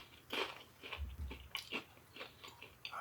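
A fried jalapeno popper egg roll is bitten and chewed up close, with a loud crunch at the first bite followed by softer crunching and chewing sounds, quiet and without talk.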